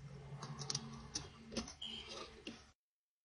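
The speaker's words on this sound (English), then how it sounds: "You can probably hear me messing around with a piece of paper." Paper being handled and rustled close by, in soft scattered crinkles and taps, with a quiet background underneath.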